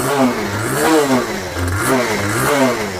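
A used motorcycle engine at a bike showroom near Kolkata revs repeatedly close by, its pitch rising and falling in steady surges over a constant rumbling idle.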